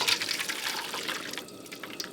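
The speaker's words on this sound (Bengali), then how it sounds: "এবার মাংসের যে জলটা আছে এটা রান্নাতে লাগবে, এখন ঢেলে নেব।" Meat stock water being poured out of a cooking pot while making mutton, a steady close splashing liquid pour that fades slightly toward the end.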